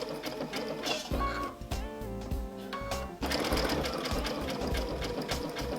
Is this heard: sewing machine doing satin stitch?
yes